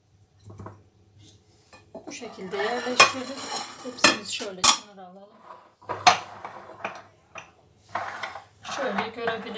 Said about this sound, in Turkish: göreceğiniz şekilde kavanozlarımı öne alayım